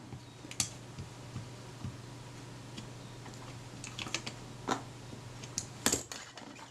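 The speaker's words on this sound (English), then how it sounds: "The button clicks into place" Several small mechanical clicks from the button of a Kodak Retina IIa film camera under repair, with a couple of sharper clicks as it snaps into place, close and fairly quiet over a steady low hum.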